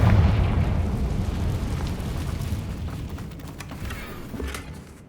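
Bombarda and Confringo spell explosions in Hogwarts Legacy: a deep, loud rumbling blast that rolls out and slowly fades over several seconds, with faint crackling debris on top.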